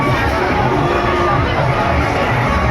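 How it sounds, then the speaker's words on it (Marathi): Dense crowd hubbub at a village fair (yatra), steady loud babble of many voices with children shouting and scattered cheers, continuous and close throughout. "इकडे पाहता किती गर्दी आहे."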